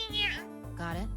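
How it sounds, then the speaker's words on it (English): A cat from the video game Zero Escape: Virtue's Last Reward gives a short, close meow, with a voice talking at the same time. "Yeah, it's a cat meow."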